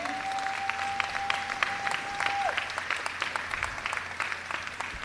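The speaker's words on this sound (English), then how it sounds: "Let's clap it up one more time for the family." An audience claps at a community center ribbon cutting, steady moderate applause from a crowd, with a thin sustained tone sounding over the first half before fading out.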